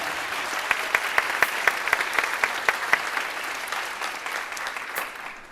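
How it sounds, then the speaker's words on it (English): Concert audience at a high school jazz band spring concert applauding the tenor saxophone and drum set soloists, a steady wash of clapping with a few sharper near claps standing out, no talk over it. "Round of applause for both of them."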